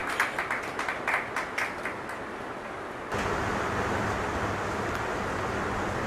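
An audience claps in scattered, distinct hand claps at first, then a denser, louder burst of applause takes over and holds steady to the end.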